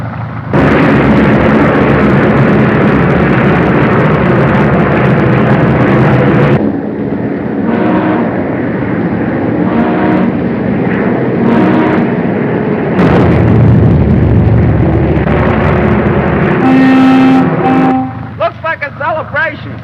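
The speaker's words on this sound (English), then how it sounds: "Listen to the cannons and whistles. That is a salute to this record-breaking flight." Cannon fire and whistles salute a record-breaking flight arriving at New York in a 1933 film serial: a dense, loud roar of booms with tonal whistle blasts late on, heavy and continuous throughout.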